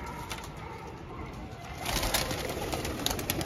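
Domestic pigeons cooing in a loft, soft repeated coos over a background of bird sounds that grows louder and busier toward the end, with no speech.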